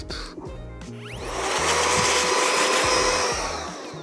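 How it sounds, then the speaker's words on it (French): A portable hair dryer blows dust off a camera lens, swelling into a steady, close, loud whirring rush after a few soft handling knocks, then easing slightly toward the end. "Un sèche-cheveux portatif pour enlever les poussières."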